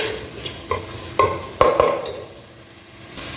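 Onions fry in a pan for a fish head curry, a close sizzle broken by several sharp scraping stirs and clatters of a spoon against the pan, with no voices.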